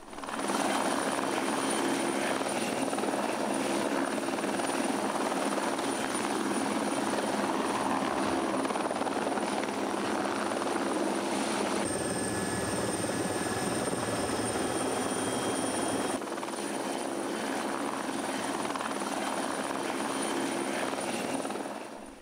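A military air force helicopter drones steadily and loudly throughout, rotor thrum and engine whine holding close, with a brief shift in tone partway through.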